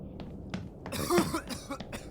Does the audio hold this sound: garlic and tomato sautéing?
no